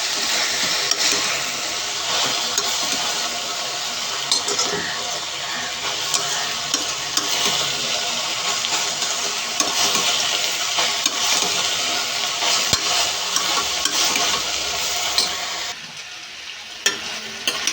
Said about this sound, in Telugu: చిక్కడికాయ కూడా అయితే ఫ్రై అయిపోయింది